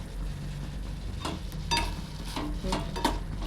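Ridge gourd cooking in oil in a pan, with a constant gentle sizzle broken by several clinks and scrapes from a stirring utensil, heard close and without talking.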